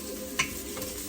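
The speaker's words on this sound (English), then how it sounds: "It's sauteing time until the ginger, garlic, and the onions are brown." Ginger, garlic and onions sautéing in a pan, a steady close sizzle with one brief scrape of stirring partway through.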